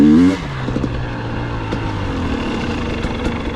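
A 2023 GasGas EX 250 two-stroke motorcycle revs up sharply at the start, then settles into a loud, steady engine drone close by.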